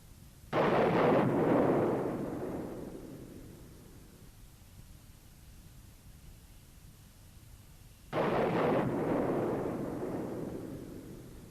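A Sukhoi ejection-system test begins as the canopy hood blows off. Two loud, sudden blasts about seven seconds apart each roar and fade into a long decaying rush of noise, with quiet in between.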